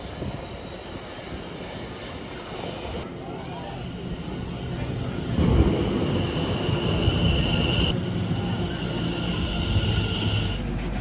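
A commuter train rolls toward Clapham Junction in London, its steady rumble and rushing hum filling the ride, with the noise swelling briefly midway.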